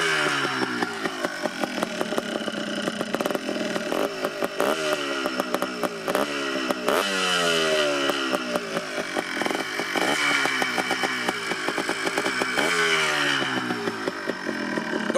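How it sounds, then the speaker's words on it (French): A 2006 Yamaha Blaster 200 quad runs nearby, its engine buzzing with repeated revs that rise and fall in a rapid, rhythmic pattern, loud and unaccompanied by talk. "Donc voilà, là le quad est démarré."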